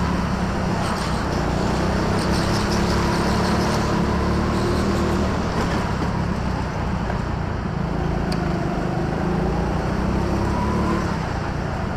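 A go-kart engine races around an indoor track at TeamSport London Docklands, a steady loud drone with rising and falling pitch as the kart accelerates and chases traffic ahead, filling the scene without talk.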